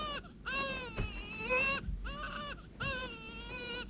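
An infant cries in an animated Bible story about baby Moses, giving three long, wavering wails separated by short gasping pauses, loud and close with no talk over it.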